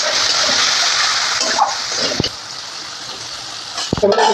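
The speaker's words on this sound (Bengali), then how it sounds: "প্রথমে আমি উস্তেগুলোকে খুব ভালো করে ভেজে নেব লবণ আর হলুদ দিয়ে" Bitter gourd pieces fry in oil with salt and turmeric for shukto. A dense, steady hiss of sizzling fills the clip, broken by a couple of sharp clinks near the end, and there is no talk.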